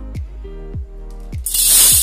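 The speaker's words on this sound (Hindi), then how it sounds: "सबसे पहले यहाँ पे मैंने एक बड़ा बर्तन ले लिया है और उसमें डाल रही हूँ ये एक बाउल साबुदाना" Dry sago pearls tip from a bowl into a large pot, ending in a loud, bright rattling pour in the last half-second after a few soft thuds.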